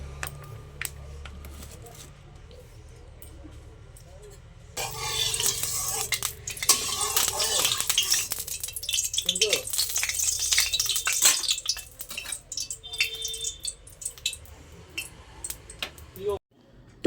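Black cumin seeds hit hot oil in a wok and set off a sudden bright sizzle after a quiet start, with scraping and clinking as they are stirred, then the frying settles down.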